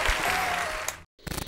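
A brief burst of applause from a podcast studio audience, dense clapping that stops abruptly, then resumes for a moment.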